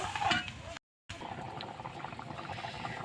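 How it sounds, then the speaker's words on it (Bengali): Curry simmering in water in a pot on the stove, a soft, steady bubbling and hiss heard up close and quietly, broken by a brief moment of silence. "এবার আমি জল দিয়ে দিলাম এবার আমি ভালো করে ফুটিয়ে নেব তরকারিটা"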